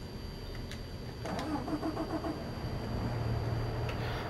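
Base-game class tractor in Farming Simulator 22 cranks and catches, settling into a steady mid-pitched idle after a brief starter whir, close and clear with no talk.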